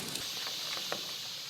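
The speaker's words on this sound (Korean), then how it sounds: "기와지붕 위로 비가 쏟아진다." Rain pours onto the traditional tiled roof of a Seoul palace hall in early August, a soft, continuous hiss with scattered faint drips, distant and quiet.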